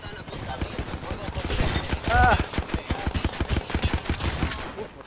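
Steady rapid gunfire in Apex Legends rattles throughout, with a voice speaking over the shots.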